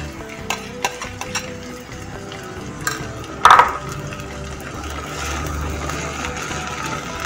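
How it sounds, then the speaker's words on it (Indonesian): Marinated chicken sizzles quietly in a wok while a utensil stirs and scrapes, with a brief sharp metallic clink partway through. "Kita aduk seperti biasa sampai ayamnya mengeluarkan air dan airnya mengering kembali"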